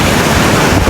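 Sea waves on Calicut beach at night make a loud, close rush of surf that is heavily buffeted by wind noise on the microphone, a brief and continuous roar with no talking.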